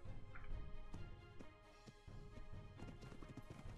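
Horse hooves clip-clop steadily in the survival game ARK, a quick rhythmic trot of clear near hoof strikes that runs through the whole stretch with light background game noise.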